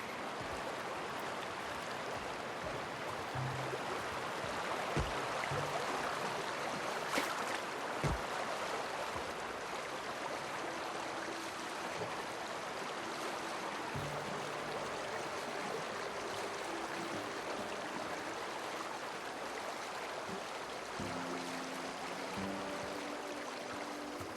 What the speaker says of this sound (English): the waterfall's a good spot to wash your clothes